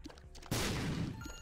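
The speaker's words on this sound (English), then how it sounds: "Oh, that was a nice explosion." A sudden, loud burst from an explosion in The Binding of Isaac: Rebirth, a sharp broadband blast that rumbles and decays over about a second amid quieter game sounds.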